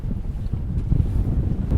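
A boat pitches in rough open sea, with wind buffeting the microphone and waves slapping and washing against the hull in a dense, low, continuous roar.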